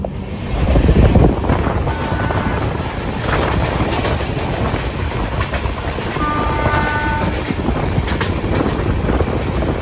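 A loud, steady rumble of a moving train with rhythmic clattering on the rails, heard close up and continuous throughout.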